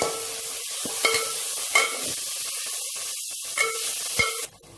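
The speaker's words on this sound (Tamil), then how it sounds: "இப்போ இது கூட ஒரு கைப்பிடி அளவுக்கு புதினா கொத்தமல்லி சேர்த்துக்கலாம். அதையும் நல்லா வதக்கிடலாம்." Mint and coriander leaves are sautéed in chicken biryani masala in a pan. The hiss is bright and continuous, with a few sharp stirring knocks and scrapes, and it cuts off abruptly at the end.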